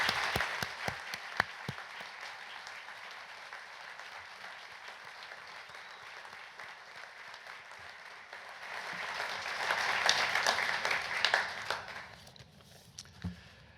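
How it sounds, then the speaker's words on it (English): An audience applauding communities at the America in Bloom awards ceremony, a sustained round of many hands clapping at moderate distance that swells louder near the end before tapering off. "let's give a big hand for all the communities."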